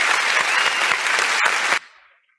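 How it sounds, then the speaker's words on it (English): Audience at a youth dialogue event in Lagos applauds loudly and steadily for nearly two seconds, then the clapping cuts off sharply and fades away. "Please keep clapping, keep clapping, keep clapping."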